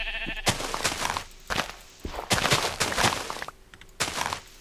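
Sheep in Minecraft bleat repeatedly in short, nasal bursts, close and fairly loud, with irregular pauses between calls.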